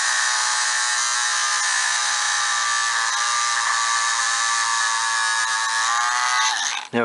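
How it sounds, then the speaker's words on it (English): A high-pitched Dremel rotary tool whines continuously, close and loud, drilling steadily through a lamp lens before winding down at the end. "now we've got to drill through to make the lens. Again, we'll use the Dremel."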